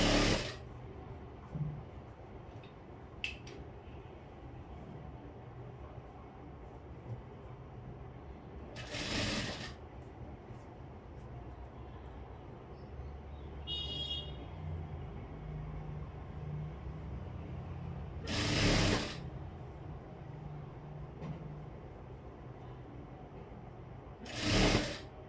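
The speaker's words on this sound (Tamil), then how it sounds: "ஒரே நேரத்தில் வச்சு இப்படி தையல் போட போகிறேன்" Sewing machine stitching a blouse at home, with short bursts of rapid mechanical stitching separated by quieter pauses, close and clear.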